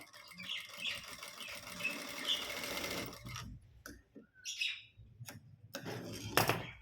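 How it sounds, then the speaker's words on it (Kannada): Sewing machine stitching cloth onto an old blouse, a steady rapid whirring run for about three seconds, then short stop-start bursts separated by pauses, heard close with no talk. "ಈ ಕಡೆದನ್ನು ನಾವು ಸ್ವಲ್ಪ ಬಟ್ಟೆ ಕೊಟ್ಟು ಹೊಲ್ಕೋಬೇಕು"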